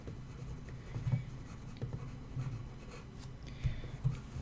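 Pencil shading strokes on paper while drawing an apple, soft scratchy rubbing with a few sharper strokes standing out, heard close and fairly quiet.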